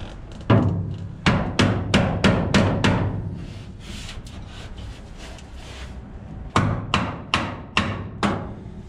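Rapid series of sharp hammer blows in quick bursts, a steady pounding rhythm that pauses briefly and then resumes, close and fairly loud.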